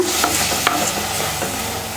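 A spoon stirs beans with a little added water in a hot pan, scraping and clinking a few times over a steady sizzle of frying.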